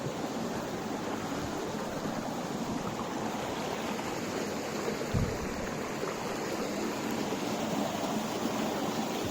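Small river stream rushing steadily near waterfalls, a continuous broadband wash of flowing water heard close and fairly loud throughout, with one brief low thump midway.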